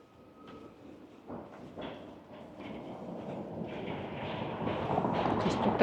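Number 5 tram on an Odesa street approaches with a rising rumble and rattle of wheels on rails, growing louder and closer over several seconds amid street noise.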